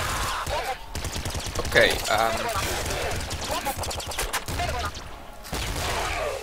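A flak cannon in a video game fires in rapid, repeated bursts of sharp popping blasts that are fairly loud and continuous, mixed with other game effects while a player talks over them.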